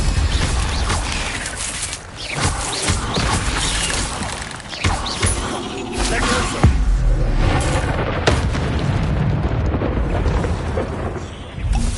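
Incendio fire spell cast in Hogwarts Legacy on PS5 during a fight with spiders, heavy whooshing blasts and booming bursts of flame layered over busy combat noise.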